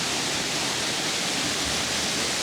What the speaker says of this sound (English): But come over here and look at the waterfall.